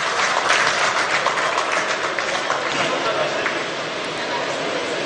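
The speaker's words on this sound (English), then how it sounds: "A round of applause" Audience applause at a gas infrastructure commissioning ceremony in Imo, steady dense clapping throughout with some background chatter mixed in.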